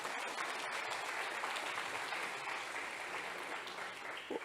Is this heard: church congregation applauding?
yes